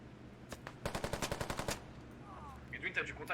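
A rapid burst of about a dozen full-auto gunshots rattles in quick even succession during a competitive shooter match, followed by fainter game sounds and distant chatter.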